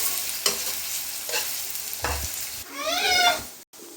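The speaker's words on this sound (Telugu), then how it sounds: "గోల్డెన్ షేడ్ వచ్చినంత వరకు వేగించుకోవాలి" Onions frying for a mutton curry in a pan, with steady sizzle and several scraping stirs, then a louder burst of sizzling near the end before a brief cut to silence.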